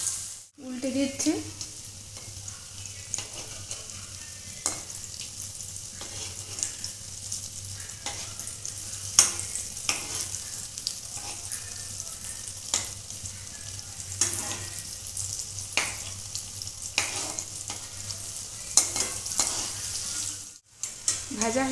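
Chira (flattened rice) cutlets sizzle steadily in hot oil in a kadai as they are turned over, with a constant frying hiss and occasional soft scrapes and clicks of a utensil.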